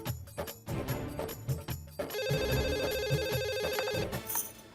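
An outgoing call rings on a telephone, a steady repeating ring tone emerging after some rustling and background noise, fairly faint with no talk over it.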